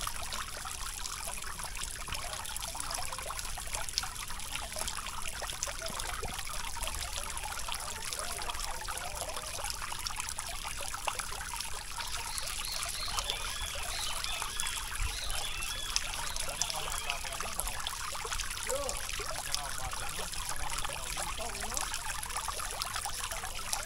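Water trickling steadily at the botanical garden in Brasília, a continuous bright splashing wash that stays fairly even throughout, with faint background sounds and occasional voices under it.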